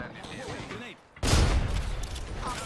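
Gunfire in the video game Apex Legends breaks out abruptly after a brief lull and continues as a loud, dense barrage, with a voice faintly present beforehand.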